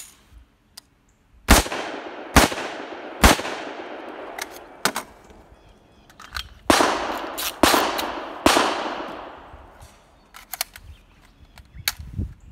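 Unsuppressed supersonic .300 AAC Blackout rounds fired outdoors, loud sharp cracks each trailing into a brief echo, with several more shots spaced irregularly across the stretch.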